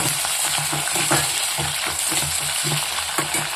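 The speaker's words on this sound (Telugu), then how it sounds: "కొంచెం కరివేపాకు వేసుకొని బాగా వేయించండి." Curry leaves fry hard in hot oil for a Telugu-style ginger chutney, giving a loud, steady crackling sizzle with a few sharper spattering pops and light stirring scrapes throughout, with no talking.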